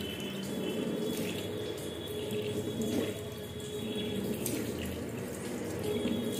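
Water pours steadily over a made-up face, a continuous close splashing wash like a running tap that holds at an even level throughout.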